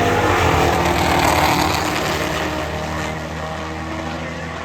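A Mustang and a Corvette street car launch off the drag strip line, a loud, dense engine roar that fills the clip and slowly recedes into the distance.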